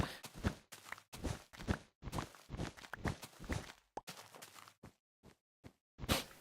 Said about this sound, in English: Oh, also I just noticed the snow now makes a footstep sound.